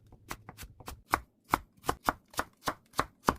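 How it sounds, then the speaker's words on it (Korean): Kitchen knife julienning a quarter of a carrot into thin strips on a cutting board, a quick steady series of close, crisp chops with no talking. "당근은 4분의 1개를 채 썰어주고요."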